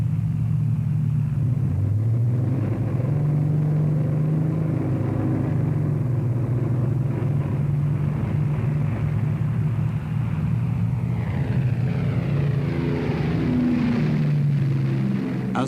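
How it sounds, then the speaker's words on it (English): WW2 heavy bombers take off from a widely dispersed airfield as a loud, steady, droning engine rumble, with pitch that rises and falls as the aircraft move, going on without a break and with no voices. "As the 40th and last bomber takes off"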